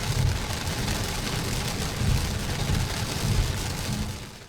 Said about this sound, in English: It's pretty early in the morning still, and I've already gotten a little bit of rain.